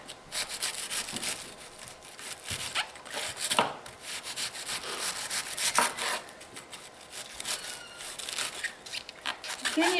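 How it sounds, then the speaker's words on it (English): A knife saws back and forth through a cabbage and hamburger meat pie, making repeated close, scraping, rasping strokes under occasional talk. "You gotta saw it."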